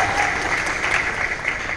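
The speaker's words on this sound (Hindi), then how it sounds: "जोरदार तालियां इनके लिए" An audience at a live classical music concert applauds in a dense, continuous wash of clapping, steady and fairly loud throughout.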